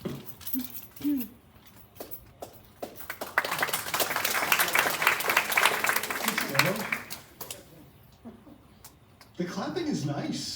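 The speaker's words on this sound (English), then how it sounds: "The clapping is nice." Audience clapping at a town hall meeting swells in the middle as a speaker walks up, a burst of scattered then fuller claps lasting a few seconds, framed by speech before and after.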